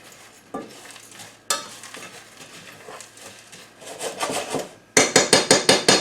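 Dry ramen noodles toasting in a pan, stirred and scraped with dry crackly rustles, building into a rapid run of sharp rhythmic scraping strokes at the end, close and fairly loud.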